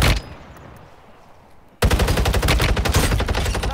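Warzone Mobile gunfire: after a quiet stretch, a loud burst of rapid automatic shots opens abruptly near the midpoint and keeps rattling steadily to the end, close and dense.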